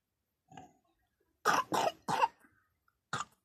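A person with a cold coughing, one soft throat sound followed by a tight cluster of three harsh coughs and a final single cough, close and alone in a quiet room.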